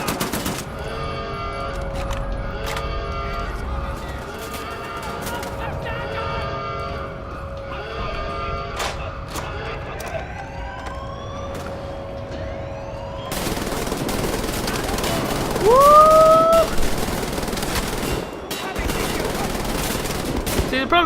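Rapid automatic gunfire from a gun in the video game Wolfenstein: The New Order, sustained bursts over game music and ambience, growing louder and denser in the second half.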